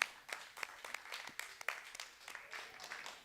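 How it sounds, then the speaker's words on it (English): Small tai chi class clapping for newcomers, sparse distinct hand claps from a few people, fairly quiet and irregular throughout. "Let's especially give a round of applause to our newcomers today for the first time being here."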